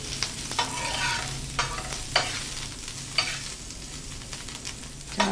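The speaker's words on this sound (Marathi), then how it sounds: "मिरच्या पण अशा छान भाजून घ्यायच्या।" Green chillies roast in a pan for a spicy salty brinjal recipe, giving a soft sizzle with repeated scraping stirs at a steady rhythm, close and fairly quiet without any talk.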